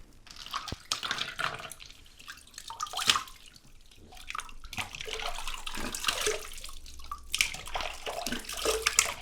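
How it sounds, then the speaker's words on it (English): Ice-cold water splashes in a sink as a face is rinsed, with irregular bursts of splashing and dripping that come close and fairly quiet, with short pauses between handfuls. "start to rinse your face with the ice cold water"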